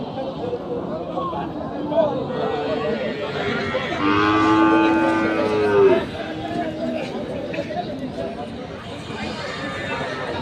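Cattle low and moo at a busy cow market in Nadia district, West Bengal, one long harmonic call standing out clearly over steady crowd chatter and people talking nearby.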